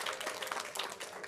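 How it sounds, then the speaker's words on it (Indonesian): A church congregation breaks into brief applause, a quiet, distant patter of many hands clapping in a large room for a moment. "Oh boleh kita beri tepuk tangan"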